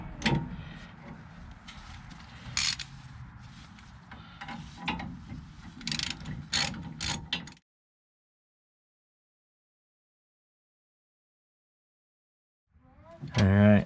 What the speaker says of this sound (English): Back with the 19mm socket,